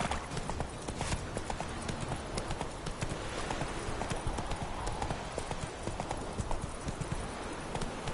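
Roach, a horse in the game The Witcher 3, gallops with rapid rhythmic hoofbeats that run steadily and close, with game ambience underneath.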